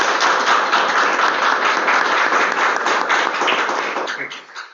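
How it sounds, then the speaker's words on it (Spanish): Warm applause from a university audience welcoming a guest speaker: dense, steady clapping from many hands close by, holding for several seconds before thinning out and fading at the end. "Demos la más calurosa bienvenida a nuestro invitado con un fuerte aplauso"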